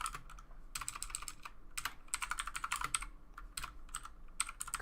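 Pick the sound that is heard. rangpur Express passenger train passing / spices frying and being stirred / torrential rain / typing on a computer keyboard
typing on a computer keyboard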